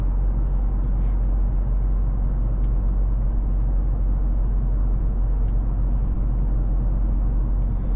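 Cabin of a 2024 Mercedes-AMG GLC 63 S driving at night, a steady low road and engine rumble with faint tire hiss, continuous and even throughout without any voices.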